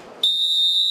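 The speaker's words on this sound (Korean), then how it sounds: "호루라기 소리와 함께 경매가 시작되고" A sharp, piercing whistle blast signalling the start of a kelp auction begins abruptly after a brief murmur and holds steady at high pitch, loud and close.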